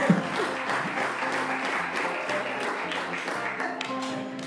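Live audience applause on a Costa Rican comedy podcast, steady and fairly close, filling the whole stretch with dense clapping and a murmur of crowd noise beneath.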